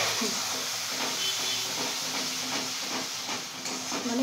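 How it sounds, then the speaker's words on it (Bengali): Tomato paste hits a sizzling spice mix in a frying pan while Bombay duck fish curry is being cooked, giving a steady, close, continuous hiss that runs unbroken throughout. "এরপরে মা অ্যাড করলো টমেটো পেস্ট।"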